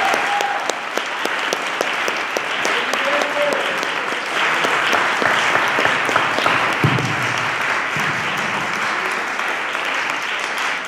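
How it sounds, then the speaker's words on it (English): Sustained applause from an audience at a candidate panel, many hands clapping steadily and fairly loudly for the whole stretch, with a faint voice or two briefly audible underneath. "Can everybody give a big round of applause for them"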